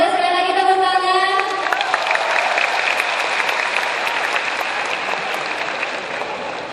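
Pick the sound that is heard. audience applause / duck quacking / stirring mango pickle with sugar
audience applause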